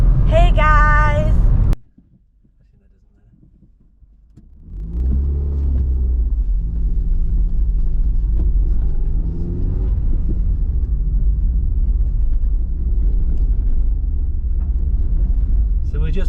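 Steady low engine rumble fills a car driving through the village of Winster in the Peak District, heard from inside the cabin; a brief voice and a sudden quiet dip come first, then the drone runs on evenly.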